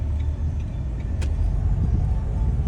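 Car engine revving with a rising throttle during a driving test practice start, a close, steady low engine drone with a brief higher burst partway through, no talking.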